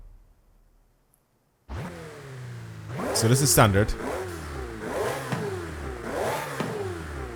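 Ferrari F8 in Forza Horizon 5 with a standard exhaust, the engine catching after near silence, then rising and falling through several loud revs, with a voice speaking briefly.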